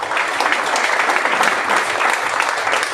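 Seminar audience in Bilaspur, Chhattisgarh, applauding in a dense, steady wash of many hands clapping, loud and close, lasting the whole stretch without any voice on top.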